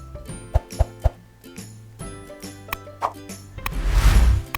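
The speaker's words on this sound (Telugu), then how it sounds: "అలాగే మ్యారినేట్ చేసిన చికెన్ కూడా ఇందులో వేసేయాలి." Marinated chicken drops into a pan of soft cooked tomatoes with several wet plops and clatters, then a rising sizzle of frying, close and fairly loud with no talking.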